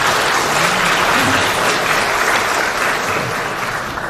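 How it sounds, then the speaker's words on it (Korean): A room of party members at a Korean opposition party meeting gives unanimous applause to approve newly appointed deputy floor leaders: dense, steady clapping that stays loud and even throughout, with no talk over it. "만장일치 박수로 여기를 주시기 바랍니다."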